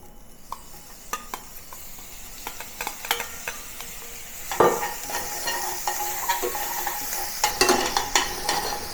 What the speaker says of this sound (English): use this oil to saute the ginger and the spring onion